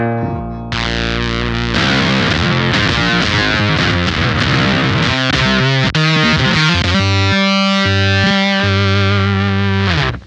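Electric guitar played through a Sonicake Octaver pedal with the sub-octave control turned fully up, a thick distorted tone with a deep octave-down layer that wavers and jumps around under sustained notes and short phrases.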